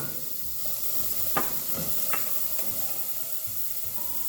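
Onions tipped into a hot pot for keto clam chowder set off a steady sizzling hiss, with a few brief crackling bursts rising near the start and middle, no voices present.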